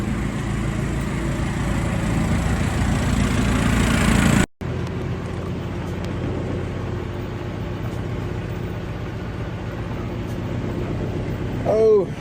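A big truck's engine idles in a steady low rumble throughout, briefly cut off about a third of the way in, then resuming with a slight swell near the end; no voices are heard over it.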